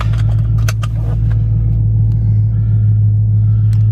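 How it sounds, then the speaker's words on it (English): A deep, steady exhaust rumble from a 2015 Dodge Charger Hellcat idles loudly and close, with a few brief clicks and rattles over it. "Of course, you can hear the exhaust right now."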